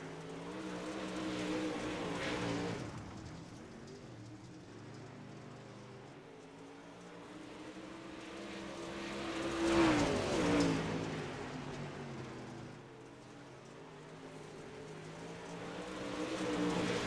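UMP Modified dirt race cars roar around a dirt oval, engines rising and falling as the pack passes, swelling loudest near the middle and again at the end, with no talking.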